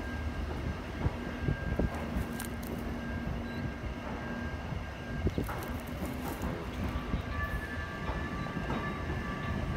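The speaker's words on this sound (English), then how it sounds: "There's a train coming!" A Lynx light rail train approaches a Park Road stop with a low rumbling roll, faint rail clicks and a thin steady tone, distant and fairly quiet throughout without speech.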